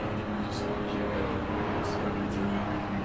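Race car engine from a sim racing game during a live qualifier stream, a steady droning hum held throughout under faint background noise.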